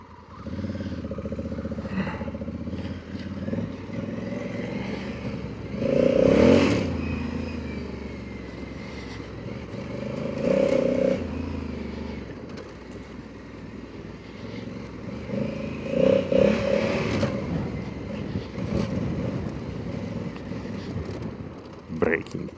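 Motorcycle running on Kenda Big Block K748 tires over a dirt trail with traction control and ABS switched off, a steady engine drone rising and falling as it rides, mixed with wind buffeting the microphone.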